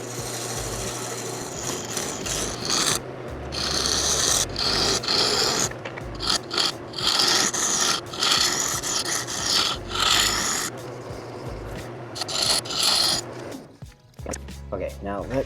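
Hawaiian Koa wood being turned on a lathe with a Hunter Tools Badger #1 cutter, producing a continuous rasping, scraping hiss that rises and falls in bursts over about fifteen seconds, close and fairly loud, with occasional speech underneath.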